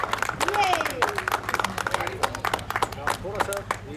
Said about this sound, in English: Clap, Samir, clap.